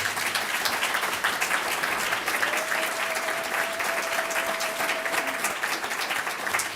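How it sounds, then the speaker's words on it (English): Rousing round of applause from the audience at a university program on African food security, steady and dense throughout, with a faint held tone sounding in the middle. "let us give ourselves a rousing round of applause"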